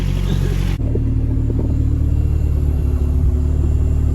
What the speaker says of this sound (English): I just wanted to get my frickin' race car started.